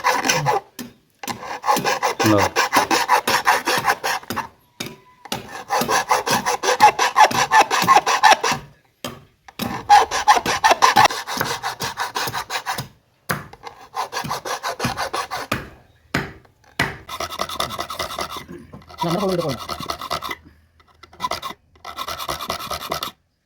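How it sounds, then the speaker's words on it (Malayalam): A metal file rasps teeth into a coconut scraper blade in a blacksmith's workshop, making loud, close, gritty strokes in repeated bursts separated by short pauses. "ഇങ്ങനെ അരം കൊണ്ട് രാഗിയാണ് അതിന്റെ പല്ലുണ്ടാക്കുന്നത്"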